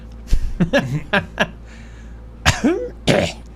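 A series of short, close coughs followed by a couple of throat clearings, sharp bursts separated by brief pauses.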